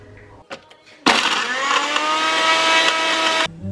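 A blender roars loudly for a few seconds after brief clicks and knocks, whirring steadily while mixing a smoothie with a date, before abruptly cutting off.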